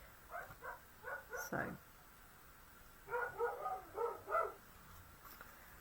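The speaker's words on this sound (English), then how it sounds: "it's another dog outside that I can hear" A dog outside barks in two short bursts of quick, faint, distant yaps, separated by a pause, with low room hiss and a brief spoken word nearby.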